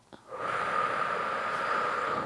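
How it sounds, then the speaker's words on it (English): A single deep, steady exhale through the mouth during a relaxed breathing exercise, a soft airy rush lasting about two seconds, close and alone without talk. "take a deep breath, in through your nose, out through your mouth"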